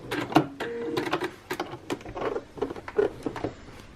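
A sewing machine running a zigzag stitch on towelling fabric, with short bursts of rapid mechanical patter and clicking, stopping and starting close by.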